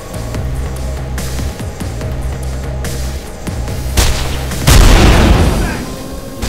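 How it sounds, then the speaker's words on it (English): A heavy explosion in the video game Mirror's Edge, a deep boom bursting out near the end after a low rhythmic hum and a few thuds, loud and close, with a player speaking faintly around it. "I blew that shit up."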